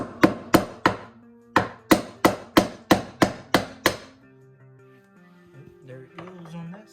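A vintage Kawasaki JS300 jet pump part, stuck tight with silicone, takes about eleven sharp, close metallic knocks in a steady rhythm, with a short pause after the third, then quieter shifting and scraping sounds.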